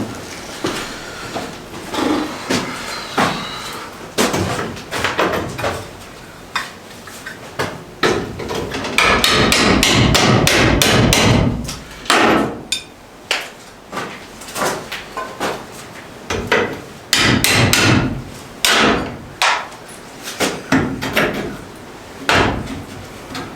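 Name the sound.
hammering while demolishing an old window in a rock cabin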